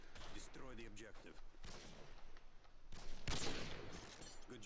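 Gunfire bursts in a team-based shooter video game round, several sharp shots and a dense volley near the end, heard under steady game noise and a talking voice.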